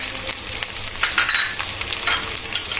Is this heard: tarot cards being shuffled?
no